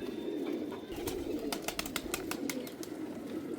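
Pigeons kept by a pigeon fancier coo in a low, steady murmur nearby, broken by a quick series of sharp wing claps and flutters.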